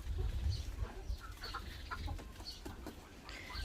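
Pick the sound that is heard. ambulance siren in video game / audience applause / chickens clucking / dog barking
chickens clucking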